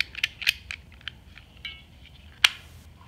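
Sharp plastic-and-metal clicks from a Kobalt razor knife box cutter popping open and snapping shut, a handful of crisp snaps up close with a louder final click.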